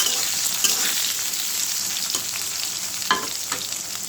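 Chopped onions sizzle in hot oil in a wok during home cooking of chicken, making a steady, loud, bright crackle throughout, with occasional scrapes of a stirring utensil and no talking.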